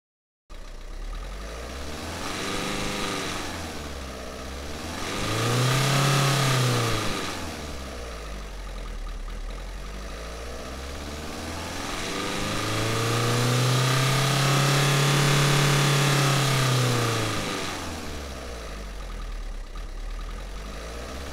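Synthesized vehicle engine noise following a varying engine speed, rising and falling in pitch as it revs up and settles back twice, steady and moderately loud with no speech.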